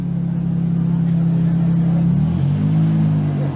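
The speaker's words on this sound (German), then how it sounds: "Hier aber jetzt ein wunderschöner, großer Rolls-Royce Cabriolet." A large vintage Rolls-Royce Cabriolet in an oldtimer parade through Essen-Rüttenscheid. Its engine gives a steady, close, low drone that shifts pitch partway through as the car moves along.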